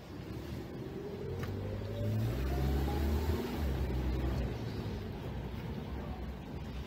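A 2021 Toyota Rush 1.5 G SUV accelerates, its engine drone rising in pitch and loudness, heard from inside the cabin as a steady low hum with road noise.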